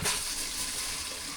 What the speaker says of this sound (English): that was just straight hot water